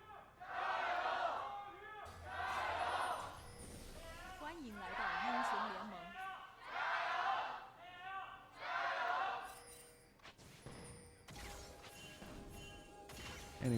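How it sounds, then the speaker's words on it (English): Arena crowd at an LPL Summer 2024 esports match between Ninjas in Pyjamas and Anyone's Legend in Shenzhen, cheering and roaring in repeated swelling waves under a caster's continuous voice, with a burst of noise near the end. "Love to hear both crowds getting a little bit hyped now as well."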